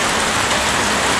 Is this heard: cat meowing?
no